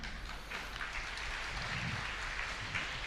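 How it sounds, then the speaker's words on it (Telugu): An audience claps at a Christian church gathering with a bishop, a brief, steady wash of applause that neither builds nor fades. "చప్పట్లు కొట్టండి, సంతోషమే"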